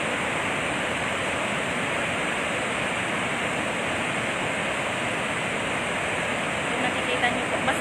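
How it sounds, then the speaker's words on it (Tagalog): Massive volume of water surging out of an overflowing dam's release gates, a loud, unbroken roaring rush of whitewater that holds steady throughout. "Ngayon, mas malakas na naman yung pagpapakawala ng tubig."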